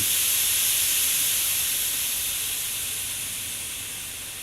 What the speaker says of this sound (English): he let out a great whoosh of steam